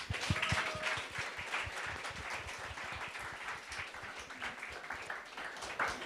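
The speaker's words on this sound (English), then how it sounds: "And I could say applause to all the presenters." Applause for the presenters at a university living-lab pilot session in Latvia: a fairly faint, steady patter of many hands clapping from a small audience, continuing for several seconds without a break.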